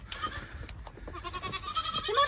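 A goat on a small farm during milking chores gives a few wavering bleats amid shuffling and other animal noise, fairly close.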